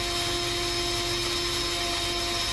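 A power drill bores out a badly rusted lock pin during front control arm replacement on a 2011 Suzuki SX4, giving a steady, close, continuous whine with a strong sustained tone and no talking.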